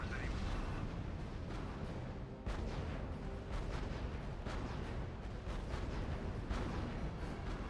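Artillery fire in the strategy video game R.U.S.E., with repeated booming blasts at irregular intervals over a dense, rumbling battle din.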